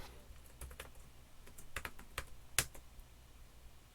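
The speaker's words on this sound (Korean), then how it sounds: "원래 타이핑이 조금 빠르긴 한데요" Light, uneven keystrokes tap on a computer keyboard while someone works at a Linux terminal, a handful of soft clicks and one sharper key press in a quiet room with no speech.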